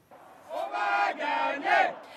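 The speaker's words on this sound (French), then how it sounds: "Massée devant l'écran géant, la foule de militants est confiante" A crowd of party activists massed before a giant screen at a French election night rally sends up loud cheering and shouting in swelling waves, with the rise and fall of many voices.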